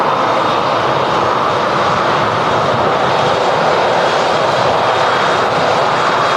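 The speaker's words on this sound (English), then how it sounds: "Here we have Lufthansa, another A319 back off to Frankfurt." A Lufthansa Airbus A319 jet at Manchester Airport, departing for Frankfurt, produces a loud, steady engine roar that holds evenly throughout without pause, and no voices are heard.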